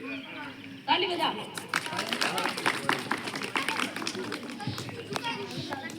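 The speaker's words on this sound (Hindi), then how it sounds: "ताली बजा।" Children clap and cheer at a small government school's Republic Day celebration, with dense, lively applause and bursts of chatter filling the space close by after a sudden start.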